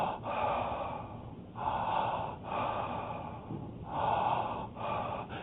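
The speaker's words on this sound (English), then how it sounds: "a connected breath is a breath where the in-breath and the out-breath flow as a unit" Slow, continuous breathing with each in-breath flowing straight into the out-breath and no pause between them, heard close and alone with a steady, looping rhythm of several full cycles.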